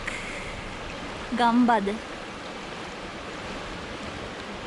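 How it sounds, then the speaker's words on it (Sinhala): A stream in the New Zealand countryside runs with a constant, broad rushing wash, and someone speaks a single brief word over it partway through. "මෙන්න නවසීලන්තේ නියම ඇලක්"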